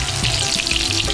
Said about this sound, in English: That's exactly what I was looking for, a sizzle when they hit the oil.